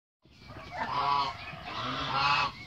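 Loud nasal honking calls from Muscovy and Thai ducks, two drawn-out squawks in quick succession, close up with nothing else around.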